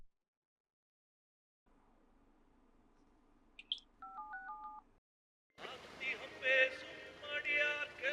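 Telephone keypad dialing tones: a brief high beep, then a quick run of several stepped DTMF tones, heard over a low background hum before louder music begins.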